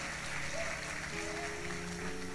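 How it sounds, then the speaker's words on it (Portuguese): A church congregation applauds during a Sunday service, a brief steady wash of clapping at moderate level, with sustained musical tones underneath. "Você consegue aplaudir?"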